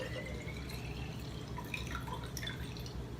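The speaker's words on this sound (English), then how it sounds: "So you're gonna pour it into the jar that you are using." Water poured into a glass jar: a steady, close trickle and splash that runs without a break for the whole few seconds, with no voices.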